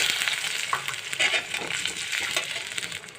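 Fried onions with ginger and garlic paste sizzle steadily in a pan, with the scrape of a spoon stirring, close and continuous with no talking.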